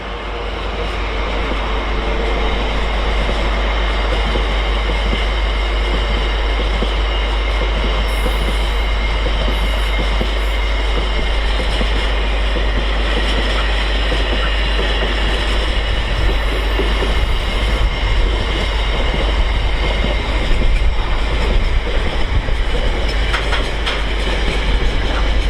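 A freight train rumbles steadily past on the East Coast Main Line, a loud continuous roar of wagons with wheel clatter and occasional faint squeals running the whole way through.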